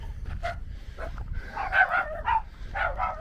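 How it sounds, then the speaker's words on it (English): Several dogs barking and yipping at a distance among houses in Peru, overlapping in an excited, uneven chorus over low rumbling background noise. "Oh god, I've pissed the dogs off."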